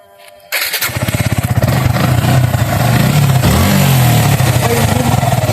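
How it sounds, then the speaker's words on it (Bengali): A fuel-injected motorcycle engine starts after a moment of quiet, then runs loud and close with a smooth, even idle and a slight rise in revs partway through. "এই বাইকের যদি আমরা ইঞ্জিন সাউন্ডটা শোনানোর চেষ্টা করি আপনাদেরকে"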